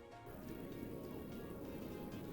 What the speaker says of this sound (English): all the water's raining down here.